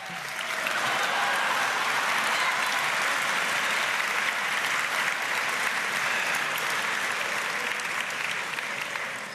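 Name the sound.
press gallery dinner audience applauding Kim Cattrall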